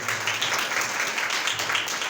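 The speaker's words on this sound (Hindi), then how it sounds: "जोरदार तालियां खुदा के लिए बजाएं।" Congregation clapping in a church service, a brief dense burst of applause, steady and fairly loud with no pauses.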